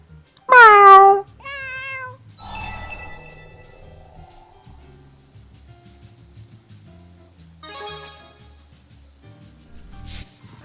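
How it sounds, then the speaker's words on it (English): A cat meows in the video game Tales of Xillia 2, with a loud, rising cry followed by a second, softer meow, then quieter game sounds and faint chimes. "You live here, Rollo? Meow."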